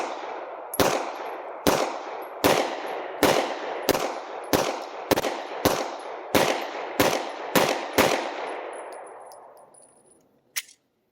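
A SIG P320 X Compact pistol fires hollow point rounds at a shooting range: about thirteen loud, sharp reports at a steady, brisk pace, each ringing out briefly, followed by a faint metallic clink.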